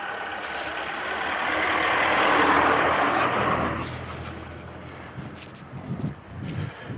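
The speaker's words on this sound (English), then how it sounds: "So we'll just go up here because there's a car coming" A car passes along a narrow one-way street, its rumble swelling to a close peak and then fading, followed by scattered street sounds.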